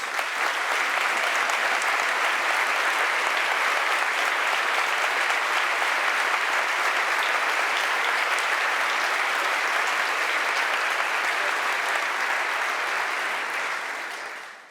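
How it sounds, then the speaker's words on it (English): A large audience at a Harvard ROTC commissioning ceremony applauds the cadets' families in a dense, steady wash of clapping that holds for about fourteen seconds before fading at the very end. "receive a round of applause for your great support for your cadets"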